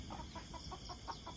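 A chicken clucks repeatedly in a steady rhythm of short, soft calls, a little distant, over a faint background hum.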